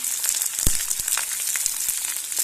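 Onion, garlic and ginger paste frying in a pan for a tiger prawn curry, giving a dense, close sizzle broken by scattered crackles and soft stirring thumps.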